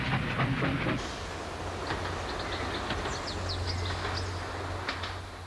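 A train rumbles and clatters along the tracks at a distance, fairly faint, with birds chirping over the steady rolling noise.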